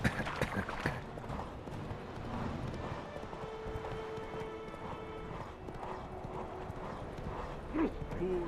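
Horse hooves clip-clop steadily in The Witcher 3 video game, an even trotting rhythm over quiet game ambience, with a brief vocal sound near the end.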